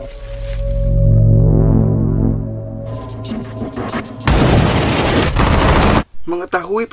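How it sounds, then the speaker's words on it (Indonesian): Sniper rifle fire in a tense film scene: a heavy boom swells and fades, then a dense, loud burst of gunfire follows, ending in sharp cracks and rattling impacts. "Lady Death yang melihat Brandon lengah hendak akan menembaknya, namun tembakannya dapat digagalkan oleh ayah Brandon."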